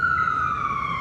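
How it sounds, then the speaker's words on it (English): An ambulance siren wails on a city street, a steady high tone that slowly slides lower as it moves, loud and clear with no talk over it. "there's an ambulance going up"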